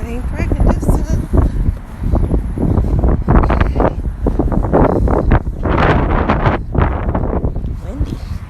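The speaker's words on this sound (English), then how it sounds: "Windy." Gusty wind buffets an outdoor microphone in loud, uneven rumbles and bursts, with a person talking through it.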